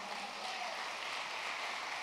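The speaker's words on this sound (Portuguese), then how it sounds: "Dê um aplauso ao Senhor." A church congregation applauding during a worship service: steady, dense clapping that stays even and fairly distant throughout, with no single voice standing out.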